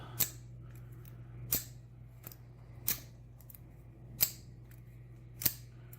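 A stock Master Lock padlock being worked with picking tools produces five sharp, evenly spaced metallic clicks over a faint steady hum, close and quiet, with no talk.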